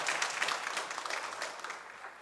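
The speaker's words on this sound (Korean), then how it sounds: "큰 박수로 격려받고 돌아가겠습니다" A church congregation at a Sunday service applauds two people being honoured, a fairly faint, soft patter of many hands that swells briefly at the start and fades steadily away.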